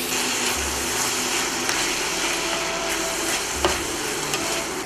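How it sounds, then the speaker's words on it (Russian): Tomatoes frying in a pan during Crimean home cooking make a steady, loud, close sizzle with faint stirring scrapes, and no one speaks over it. "После того, как выложили помидоры, жарить нужно недолго, чтобы помидоры остались целенькими"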